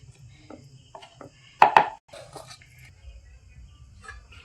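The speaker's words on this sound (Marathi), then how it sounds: "राईससाठी ना कोथिंबीर कापते" A knife chops coriander on a board, finely and in uneven taps with one sharper, louder strike midway. The sound is close and fairly quiet, with light background murmur.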